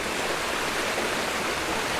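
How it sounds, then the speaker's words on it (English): Very small cascades at Lilydale Falls in Tasmania make a steady, even rush of water close by, with no voices heard. "Some very, very small cascades up there, like really small."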